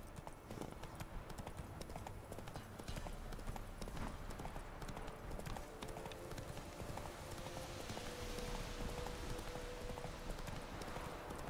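Roach, Geralt's horse in the Witcher 3 game, trots with a steady, continuous clip-clop of hooves under a dense, noisy ambient bed, heard close and without speech.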